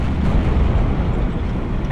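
A shell strikes and explodes in the WWII strategy game Steel Division 2, a loud sustained rumbling boom filling the whole moment with heavy low-end roar and no distinct separate hits.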